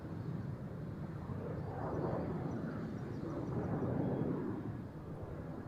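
Jet airliners, a United Dreamliner and an Emirates Boeing 777 freighter, rumble at Amsterdam Schiphol on a windy day, a low, distant roar that swells and fades, alone without talk.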